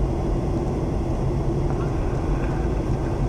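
Steady, loud cabin roar inside a Ryanair airliner on flight FR144 from Berlin SXF descending toward London Stansted in rain, a dense broadband engine and airflow rumble that holds constant throughout.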